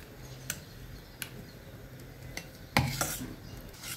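A spoon mashes hot peda sweets in a metal vessel for kheer, sparse light clinks and scrapes with one louder clatter near the end, close and without talk.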